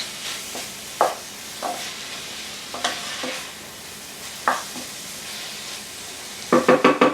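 Mushrooms and onions with thyme being stirred in a pot for paleo cream of mushroom soup: soft sizzling with a few spaced spoon scrapes, then a quick cluster of clinks at the end, close and fairly quiet, no talking.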